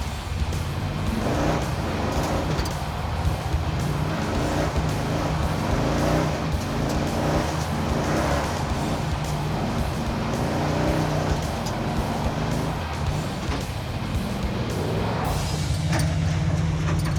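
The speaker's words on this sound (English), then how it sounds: "It's a solid automobile for making donuts." Car engine revving and roaring steadily while doing donuts at a Muddy Gap, Wyoming gas station, loud and sustained with tire noise, no talking.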